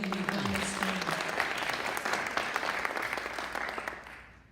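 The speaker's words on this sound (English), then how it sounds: "let's please give them a round of applause for everything they've done this spring." An audience gives a round of applause at a National Letter of Intent signing ceremony, with dense, steady clapping that tapers off near the end. A brief tonal sound is heard at the start.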